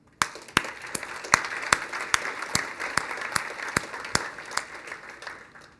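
At a 2017 software contributor summit kickoff, an audience applauds with sharp, evenly spaced claps that stand out over a softer wash of clapping. The applause stays moderately loud and steady throughout with no talking.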